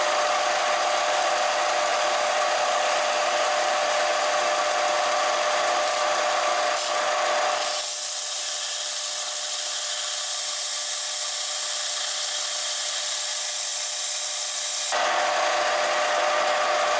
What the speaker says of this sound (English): I'm going to see if I can work this blade better in this flatbed sander initially